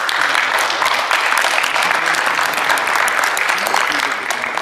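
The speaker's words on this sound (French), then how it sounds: "on peut l'applaudir" Spectators at a football event applaud the veteran goalkeeper, a loud, sustained burst of clapping from a sizable crowd, close and continuous across the whole stretch with a faint voice mixed in.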